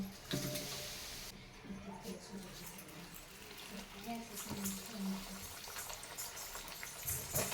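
Sajurya, traditional crisp snacks made from ration-shop rice flour, frying in hot oil in a home kitchen, a steady broadband bubbling hiss close by with soft low clatter and faint background voices.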